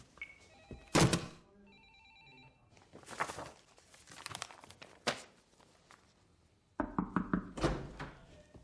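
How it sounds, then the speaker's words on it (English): Telephone bell ringing in a film scene, loud repeated rings in bursts alongside knocks and thumps, with no speech. "It's the Ibbotson woman on the phone."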